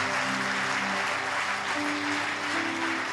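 A church congregation applauds during a praise and worship service: dense, steady clapping from a large crowd fills the space, with a faint held musical tone underneath.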